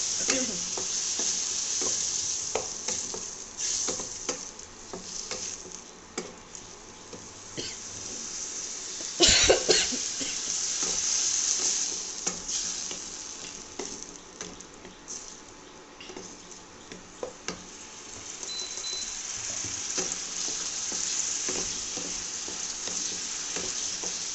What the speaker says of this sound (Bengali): এই যে আমি এখানে জল অ্যাড করে নিয়েছি জল অ্যাড করে আস্তে আস্তে আমি এই জলটার সাথে এটাকে ভালো করে কষাবো